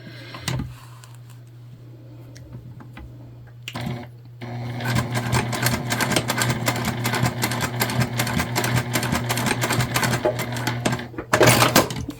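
Close, loud sewing machine runs in steady stitching bursts, basting a fabric bow onto a book sleeve, with short pauses and clicks between runs.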